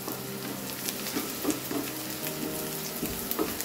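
Dried round chillies fry in hot oil for a Palakkad-style horse gram curry, giving a steady, fairly quiet crackling sizzle with scattered small pops and light stirring throughout.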